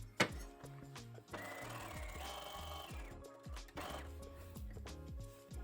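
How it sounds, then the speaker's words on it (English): Sewing machine zigzag stitching picot elastic onto a stretch lace bra, steady close whirring runs of rapid stitching with short stops and restarts, quiet overall and no talk. "you flip it to the back and zigzag again"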